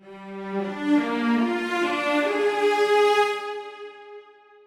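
Sampled bowed strings play a short sustained phrase at steady volume that cuts off abruptly at the end, alone with no talk.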